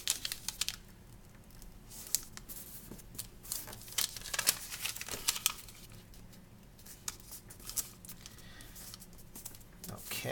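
Traditional origami paper being folded, its raw edges creased in to meet the center: close, crisp rustles and sharp crinkling snaps in irregular bursts, with quieter handling between them.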